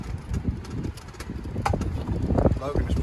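Gusty wind buffets the microphone at a Jellystone Park campground beside a row of cabins in Chincoteague, Virginia, a steady low roar with rising gusts that runs the full length.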